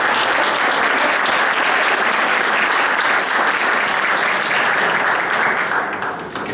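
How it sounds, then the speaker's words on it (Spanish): An audience at an evening talk event applauds warmly in a dense, loud, sustained wash of clapping that tapers slightly at the end, with no speech. "Creo que se merecen un aplauso."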